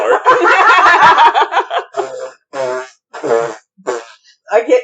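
A voice imitates farts with wet, buzzing blurts, first a long sputtering run and then several shorter bursts separated by pauses, loud and close, with giggling mixed in.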